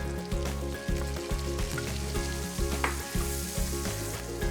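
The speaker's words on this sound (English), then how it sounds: "Our chorizo is getting a little bit brown, so we're gonna add some chopped onions." Chorizo and chopped onions fry in a pan, a close steady sizzle with occasional spatters, over a loud low pulsing hum that repeats every second or so.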